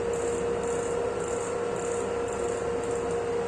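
LG washing machine from 2010–2016 spinning fast at about 1200 rpm during a service test. It gives a loud, steady mechanical drone with a whooshing pulse that repeats with each drum rotation.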